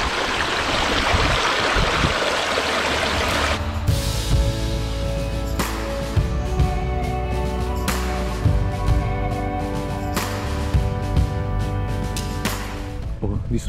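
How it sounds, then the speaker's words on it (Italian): A mountain stream running along a cold outdoor trail, a steady broadband rush of flowing water that starts strong and continues under tonal clinks and knocks for the length of the clip. "Quest'acqua non è tanto calda."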